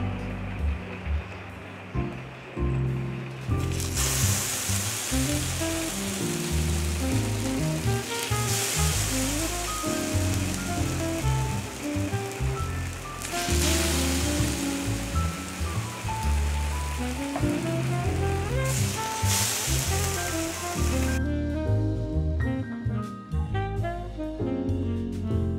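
Egg-coated pound cake slices sizzle loudly on a sprayed griddle at a campsite, a dense, steady crackle that continues unbroken, with background music playing underneath.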